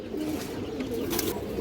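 Green-necked pigeons in a loft pair coo softly in a low, rolling murmur, close by, with faint rustling around them.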